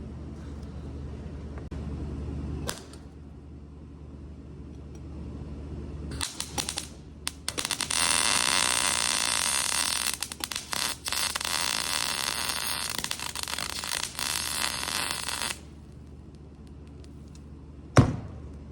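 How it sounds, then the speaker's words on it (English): A welder used right next to wood to set it alight for a small rocket stove: dense, harsh buzzing arc crackle comes in a short burst, then a long sustained stretch mid-clip, with quiet pauses and a final sharp snap. "we're going to use the welder, use it in close proximity to the wood we want to light on fire"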